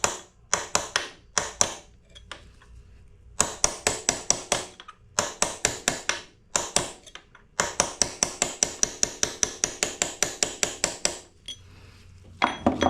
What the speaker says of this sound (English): get yourself a punch and kind of tap that over a little bit before you put the other case half on